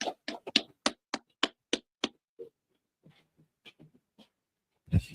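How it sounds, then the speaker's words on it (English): A group claps in unison at a military gathering, about ten sharp, evenly spaced claps ringing out loud and close, then a few scattered softer claps trail off before a louder burst at the end. "Clap it up."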